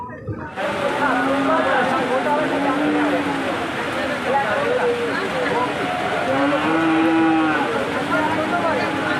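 Cattle moo repeatedly at the Chandaikona cattle market on a rainy day with pooled water, long bellowing calls rising over a constant crowd murmur and people talking nearby.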